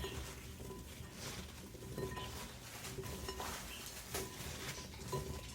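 Salted watermelon rind being tossed and mixed in a bowl, giving a steady run of soft clinks, scrapes and wet patter that continue without pause at close range.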